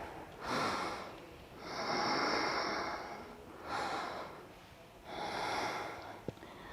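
Slow, deep breaths through the nose during a big yoga back bend, three long inhale and exhale cycles, close and clear in a quiet room.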